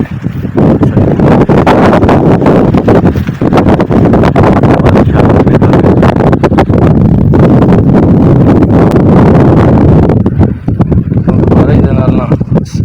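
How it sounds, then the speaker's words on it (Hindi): Strong wind roars outdoors during a rainy-weather spell, buffeting the microphone in loud continuous gusts for the whole stretch, easing only briefly near the end. "हवा चलती पई इस वक्त।"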